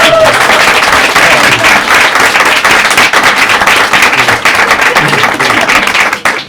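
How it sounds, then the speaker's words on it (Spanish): An audience at a Spanish round-table panel on wild pollinators bursts into loud, sustained applause, dense clapping filling the whole stretch before tapering at the end. "Un fuerte aplauso."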